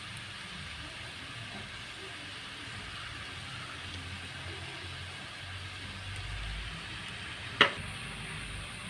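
Onions and shallots sauté with coriander powder in a pan for a fried chicken curry, giving a steady, soft sizzle throughout with faint stirring and a single sharp utensil clink near the end.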